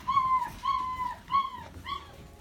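Six-week-old F1B Pyredoodle puppies give four high, thin whimpering yips in quick succession, close and moderately loud, each a short rising-and-falling whine with no talk.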